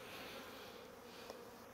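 Honeybees hum around an open hive during beekeeping, a steady, soft, continuous buzz with no talking over it.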